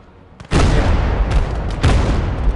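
A SIG gun fires in the World War II video game Gates of Hell, a sudden heavy boom followed by rumbling blasts and a second crack, loud and close.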